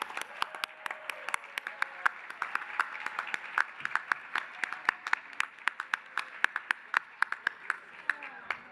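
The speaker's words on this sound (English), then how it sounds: "One more round of in-person applause for our phenomenal class of 2020." An in-person audience at a house graduation ceremony applauds the class of 2020 with moderate, distinct clapping, individual sharp claps standing out over a softer steady patter.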